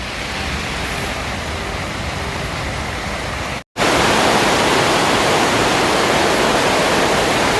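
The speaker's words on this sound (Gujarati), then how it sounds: "જોરદાર વરસાદ ચાલુ હોય ખેરાલુમાં" Steady, dense roar of heavy rain pouring without letup in waterlogged Kheralu, Gujarat, briefly cut off for a moment and resuming even louder.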